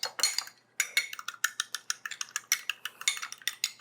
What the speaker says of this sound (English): We're going to whisk it up.